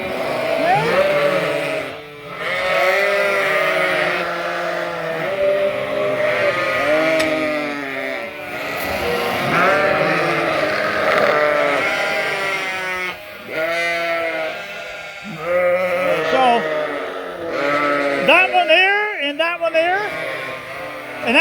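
Suffolk sheep in a barn at feeding time, a loud chorus of overlapping bleats rising and falling continuously from many animals, some close and some farther off, with a person briefly talking among them.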